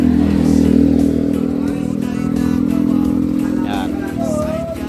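A Yamaha Mio Gravis automatic scooter built in Thailand concept style idles with a steady, loud, close engine drone and slight revving swells, under someone talking.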